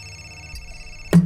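A telephone rings in the game Fahrenheit: Indigo Prophecy, a steady electronic ringing tone held over a quiet background, broken by a sudden louder thump at the end.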